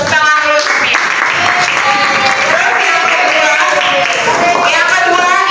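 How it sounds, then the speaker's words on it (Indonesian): Classroom applause during a teaching practice lesson, a loud continuous patter of many hands with voices and children's chatter mixed throughout. "Tepuk tangan dulu semuanya"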